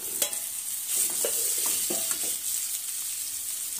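Two mashed potatoes stirred into a pan of turmeric-fried oil with coriander for a potato bhaji: steady close sizzle under soft scraping strokes of a spoon, no voices.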